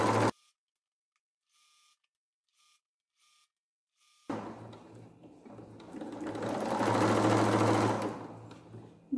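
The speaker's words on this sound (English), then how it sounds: "So just forward, back stitch, and stitch all the way down to the other side." A sewing machine stitches a DIY sound-absorbing blanket. After a few faint taps and a silent stretch, it runs in a steady, close whirring buzz that swells louder, then eases off.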